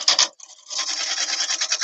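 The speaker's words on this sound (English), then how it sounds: "So it's a skew cut" A skew chisel cuts wood on a big lathe, making a close, dry rasping scrape that breaks off briefly and then runs on steadily.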